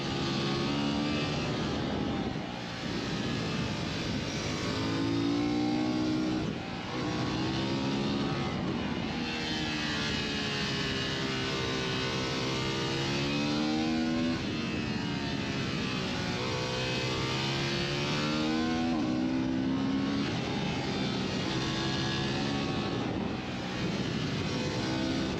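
A 2023 Honda Hornet motorcycle engine revs hard and accelerates through the gears, a loud, sustained roar whose pitch rises and falls in long sweeps for the whole stretch, with no talking.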